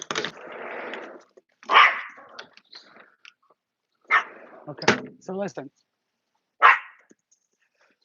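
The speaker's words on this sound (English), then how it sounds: "What are you barking at?" A dog gives a couple of short, sharp barks indoors, scattered between stretches of close talking.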